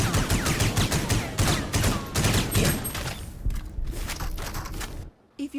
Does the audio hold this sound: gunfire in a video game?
yes